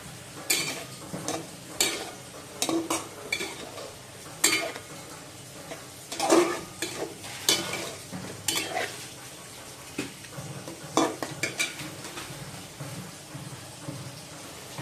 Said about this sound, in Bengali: এখন আমি এতে পটল ফ্রাই করে রেখেছিলাম ওগুলো দিয়ে দিচ্ছি